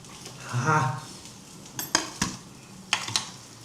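Food being stirred in a pan while cooking a chutney, with a soft scrape followed by several sharp metallic clinks of a spoon against the pan, near and distinct.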